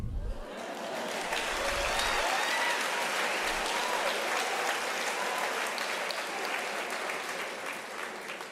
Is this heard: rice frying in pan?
no